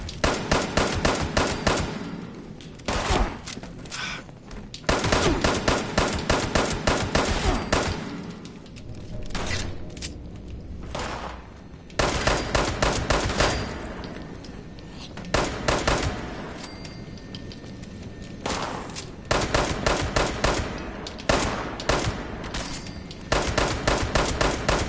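Turret gunfire in Fallout 76, rattling in long rapid automatic bursts broken by short pauses, loud and close and running on without a break in rhythm, with no talking over it.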